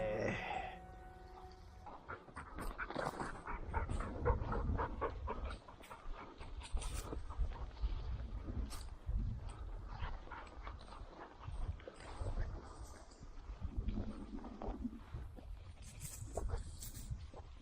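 A Pachón Navarro hunting dog pants rapidly in bursts close by during a small-game hunt, with soft whimpers and rustling movement in between.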